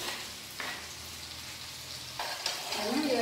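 Garlic, dried ground ginger and chili sizzle steadily in hot oil in a pan, a continuous close frying hiss with a few stirring scrapes and bursts of crackle.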